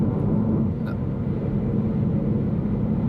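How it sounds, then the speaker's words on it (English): Wind rushing past a moving 2015 Mini Cooper SD on the road, a steady low rumbling roar heard from inside the cabin, continuous and unbroken with no talking. "There is wind outside, you can hear it"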